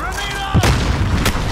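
A grenade explosion in Call of Duty Modern Warfare during a team deathmatch, a loud low boom landing mid-clip followed by a second blast, over steady game noise with a faint voice present.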